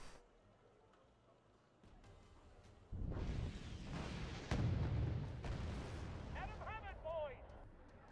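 Artillery and gunfire rumble through a Wargame: Red Dragon battle, low booms building from faint to steady and loud, with sharp bursts and scattered pops layered over them; voices talk over the fighting.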